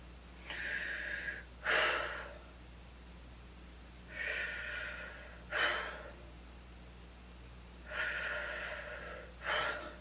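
Three cycles of slow, deliberate breathing for a breathing exercise, each a long hissing inhale followed by a sharp forceful exhale, close and clear over a low steady hum.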